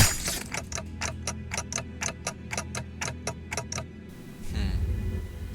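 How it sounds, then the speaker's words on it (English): A loud clock ticks in a steady, even rhythm, a dozen crisp ticks in a row, then stops as a low rumbling noise takes over. "All I can hear is the clock ticking."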